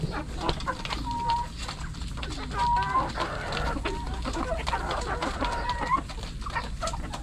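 Darag native chickens cluck and murmur nearby in a farmyard, with short repeated clucks scattered over several seconds against a low, steady outdoor background.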